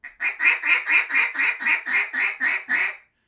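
A duck feed call blown in a steady run of about ten evenly spaced, loud quacks, each clipped short, with no voices.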